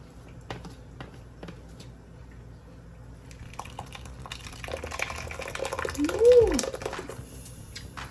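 Cooking liquid for Jamaican rice and peas is strained through a strainer, starting as faint drips and building into a louder close trickle and pour toward the end, with someone speaking early on.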